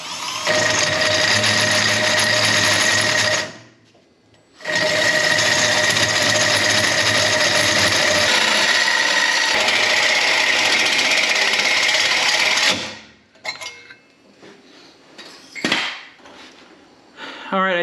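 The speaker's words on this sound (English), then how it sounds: "I can pilot that Holesaw all the way to the end, and it will cut nice and clean and smooth all the way through there" A hole saw on a long pilot drill cuts through a metal tube: a loud, steady power-drill whine with a grinding edge runs for several seconds, stops briefly, resumes for about eight seconds, then gives way to quieter clunks and handling.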